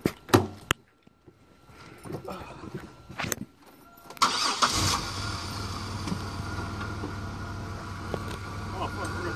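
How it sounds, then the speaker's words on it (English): A Buick Regal's engine cranks and catches after a few sharp knocks and thumps, then settles into a steady, close idle rumble, while voices speak briefly nearby. "Start your car and roll it back a few feet"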